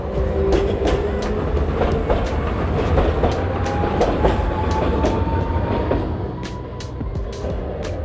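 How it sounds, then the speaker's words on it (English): A tram rolls past on a street in Japan, a steady low rumble with rhythmic wheel clatter and a faint squeal, loud and close before easing off slightly at the end. "Tram is coming"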